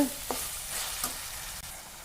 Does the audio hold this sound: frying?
yes